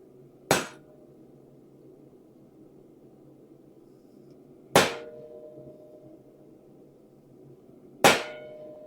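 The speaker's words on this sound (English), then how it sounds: "So I'm picking up the punch and correcting it if it moves each time for these initial hammer blows" Three sharp, loud hammer blows on a steel punch during finishing work on a metal ladle, spaced several seconds apart, each a bright ringing clang that decays over a low steady background hum.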